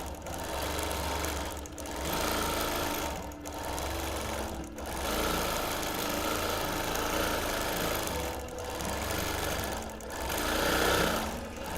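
A sewing machine quilts a busy-print quilt in long steady runs of rapid needle chatter, briefly stopping several times before starting again, close and clear with no talking.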